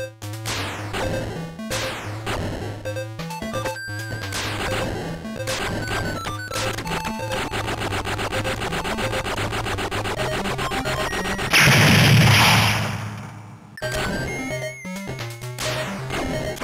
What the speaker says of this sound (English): Heavy machine gun! Fire gun!